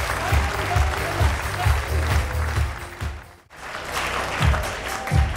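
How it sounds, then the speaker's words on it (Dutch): Audience at a sports gala applauding, sustained clapping close and loud, briefly dipping before resuming, with a voice heard faintly under it. "Een groot applaus voor deze 3 sportmannen."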